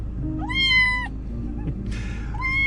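A small kitten meows three times, high and insistent, close up, with a low background hum and no talking.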